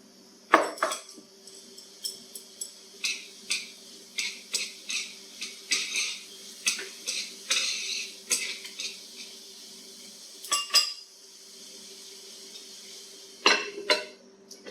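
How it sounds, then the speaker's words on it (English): Mushrooms go into two warm pans and are stirred during a chicken supper preparation, giving a run of sharp metallic clinks and scrapes of utensils against cookware in quick, uneven bursts, with a faint sizzle beneath. "Both pans are warm now."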